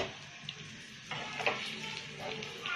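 A little oil goes into a hot pan that was just used for cooking chicken masala, giving a short burst of frying sizzle with a few light clinks, fairly close and with no talking.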